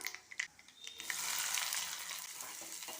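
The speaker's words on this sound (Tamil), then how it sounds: "கடுகு பொறிஞ்ச பிறகு இருபது சின்ன வெங்காயம் சேர்த்துடலாம்" Small onions drop into hot oil with spluttering mustard seeds, urad dal, fennel and fenugreek. A few sharp pops lead into a loud, steady, close sizzle that holds to the end, with no voices.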